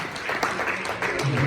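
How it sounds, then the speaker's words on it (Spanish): A congregation claps during an evangelical church service, a short burst of uneven applause with voices and some shouting mixed in. "Un aplauso, Señor."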